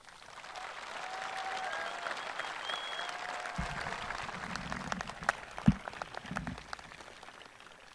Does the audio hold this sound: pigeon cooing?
no